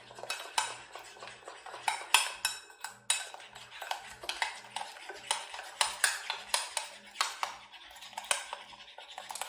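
Chocolate chip cookie dough being mixed in a bowl, with rapid repeated scraping and clinking of a utensil against the bowl in an uneven rhythm, close up.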